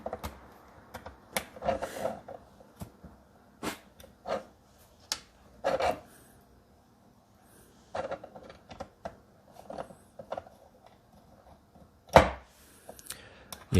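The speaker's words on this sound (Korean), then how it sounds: "그리고 이제 나사를 다시 쪼아 주시면은 다시 체결이 됩니다." Screws are tightened back into a small Arduino device, giving scattered short scraping and clicking bursts at irregular intervals, faint and close, with no voices.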